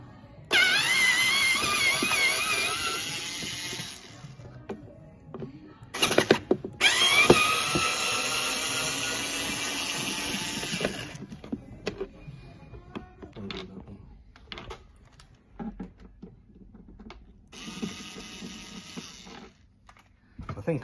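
A powered screwdriver undoes screws on a QTX QR/QX series portable busker amplifier, whirring in several sustained bursts separated by quieter stretches of small clicks and handling noises.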